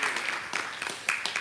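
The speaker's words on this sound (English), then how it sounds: "feel free to clap" An audience gives a brief burst of clapping during a devotional talk, steady hand claps at moderate distance.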